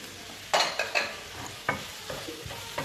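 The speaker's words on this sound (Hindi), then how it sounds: "इसको बस ऐसे हल्का सा मिक्स ही करेंगे" Spices and pomegranate seeds are stirred in a hot pan, several distinct scraping strokes of a spoon over a low sizzle, close and fairly loud.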